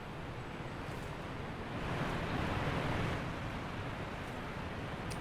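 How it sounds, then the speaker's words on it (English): Steady broadband rush of running water in the fantasy video game Morrowind, near an ornate Nordic tomb; a continuous washing flow, moderately quiet, swelling slightly in the middle, with no talk. "Running water."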